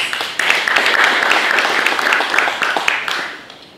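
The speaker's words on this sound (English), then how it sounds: "So let's give them a round of applause." An audience applauds at a sports gathering, a dense, steady wash of many hands clapping close by for a few seconds before tapering off at the end.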